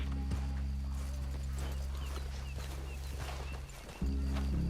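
Horses clopping along at a walk in the Red Dead Redemption 2 game world, a steady hoof rhythm over a constant low rumble, with no talking.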